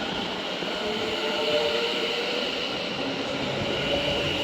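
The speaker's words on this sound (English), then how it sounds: "departing now on platform 4 is going to be your pair of London North Western Railway Class 730s" A pair of London Northwestern Railway Class 730 electric trains depart a station platform, a steady rolling rumble with a faint high electric whine, continuous and moderately near.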